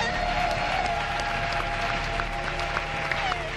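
Studio audience applauding on the Italian reality show Isola dei Famosi after the fifth finalist is announced, a dense, steady wash of clapping with faint music tones underneath.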